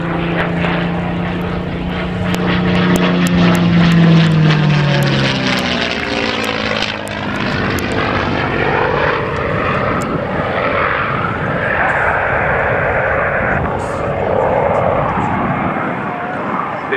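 A P-51 Mustang propeller fighter performs a display at Scampton Airshow, its engine droning loud and steady with a rising then falling pitch as it passes overhead, under a public-address commentator talking throughout.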